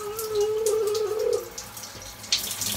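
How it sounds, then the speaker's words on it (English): Water from a shower runs in a steady, close hiss, with a brief tonal squeal from the tap near the start and a splash or knock near the end. "Shower!"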